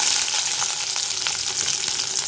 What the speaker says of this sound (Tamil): இப்போ இது எல்லாமே நல்லா வதங்கட்டும்